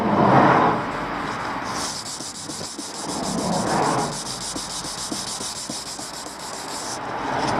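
A car headlight being wet sanded by hand, with steady back-and-forth rubbing strokes that swell and fade in a continuous close, loud rasp, without speech.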